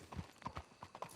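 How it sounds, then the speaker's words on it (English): Horses' hooves clip-clop in Red Dead Redemption 2, a quick, faint run of irregular hoof strikes on hard ground with no talk. "Let's hitch the horses up ahead."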